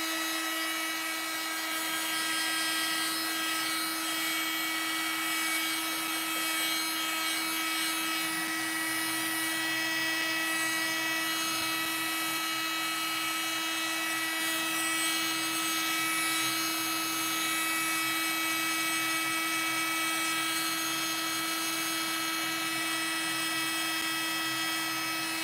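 A drying tool blows over a decoupage craft project, giving a steady, even whirring hum with a constant electric tone that runs unbroken throughout, no voices.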